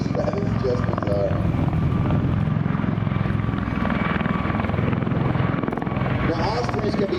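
V-22 Osprey tiltrotor aircraft flying in helicopter mode at an air show, a loud, continuous throbbing rotor roar that holds steady throughout as a voice talks over it.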